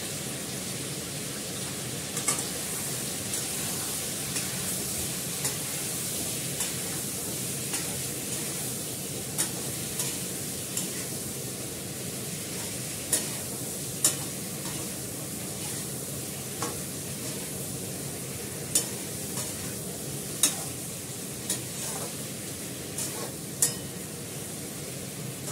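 Spices including Kashmiri chili powder fry in a pan with a constant crackling sizzle, while a utensil scrapes and taps against the pan at a slow, regular rhythm.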